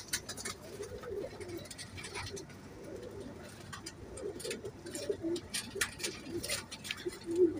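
A red-eyed pigeon, a female, coos softly in low repeated calls, with rustling and light patter around it and no one speaking.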